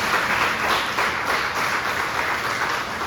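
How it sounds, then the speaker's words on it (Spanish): A church congregation applauds during a sermon, a dense, steady wash of clapping that holds at a fairly even loudness throughout with no talk over it. "Denle otro fuerte aplauso al Señor."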